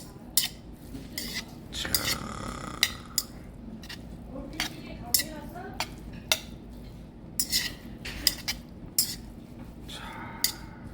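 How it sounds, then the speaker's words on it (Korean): Chopsticks mixing bibimbap with radish salad in a metal bowl, giving repeated sharp clinks and scraping taps at an irregular rhythm over a faint background hum, with no talking. "이렇게 젓가락으로 비비면 재료들이 뭉개지지가 않고 그 본연의 맛을 좀 느낄 수가 있어서"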